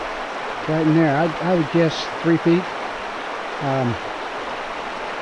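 Broad, steady rushing of the shallow Chattooga River flowing over its bed outdoors in mid-October, a constant wash running throughout under a man's brief spoken remarks.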